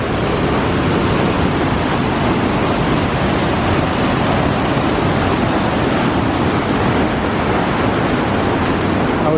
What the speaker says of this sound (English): Now we're at the top of the falls from the other side.